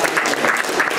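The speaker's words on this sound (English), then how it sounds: "if everyone could give a round of applause for this guy." Audience at an entrepreneurship panel applauds in a brief, dense burst of clapping, steady and fairly loud throughout.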